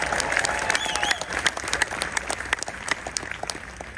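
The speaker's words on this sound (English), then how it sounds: "let's give a great round of applause for our staff and our production company" An audience in a conference hall claps warmly for the event staff and production company, a dense, steady patter of many hands with a few brighter accents throughout.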